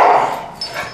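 A show dog gives a short vocal burst toward a racket during handling practice, a brief close growl-like sound that quickly fades into a faint tail.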